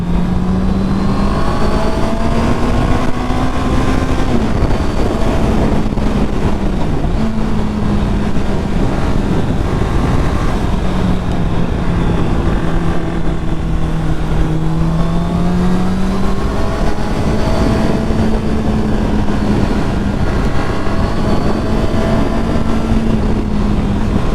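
A 2019 Honda CBR650R motorcycle accelerates hard up a hill, its engine whine climbing through gears with brief dips at each shift, loud and sustained under heavy wind rush.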